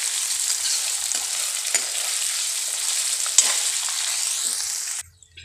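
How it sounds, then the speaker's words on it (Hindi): Paneer cubes fry in oil over a medium gas flame, a loud continuous close sizzle with occasional stirring clacks, cutting off abruptly near the end. "अब हम पनीर को हल्का सा जो है वो फ्राई कर लेंगे।"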